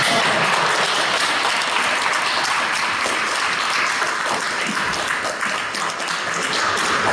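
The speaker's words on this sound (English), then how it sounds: "So please a big round of applause for me." Audience at a Toastmasters club meeting applauding their outgoing president, a loud, dense burst of clapping that carries on steadily for the full stretch.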